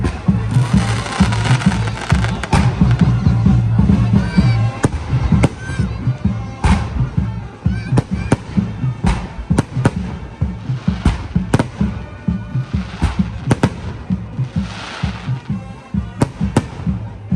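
Firecrackers and fireworks set off by a group burst loudly and repeatedly in a dense, irregular barrage of sharp cracks and booms, close by and continuous throughout.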